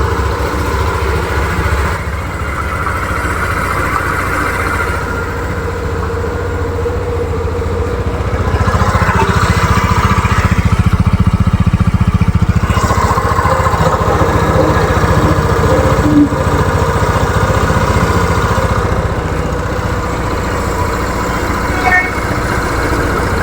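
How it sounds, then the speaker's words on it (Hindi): A newly fitted motorcycle engine starts and settles into a steady idle, a continuous low rumble running loud and close for the whole stretch, with a brief rise in the middle and faint voices underneath. "तो अब बाइक को स्टार्ट करके देख लेते हैं"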